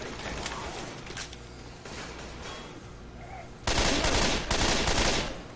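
Rapid video-game gunfire against swamp zombies in Left 4 Dead 2, bursts of shots under game noise that grow louder and denser toward the end.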